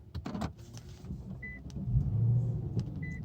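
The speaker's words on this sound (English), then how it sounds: "Start the car." An Infiniti M56 engine starts up with a low rumble that swells and settles into a steady idle, with short electronic chime tones and faint interior clicks before it.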